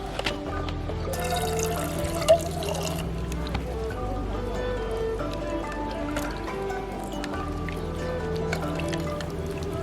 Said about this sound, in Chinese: 这个就是我买的红薯了，先把它洗一下。